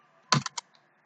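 A few quick keystrokes on a computer keyboard, three or four sharp close clicks in a short burst, followed by quiet.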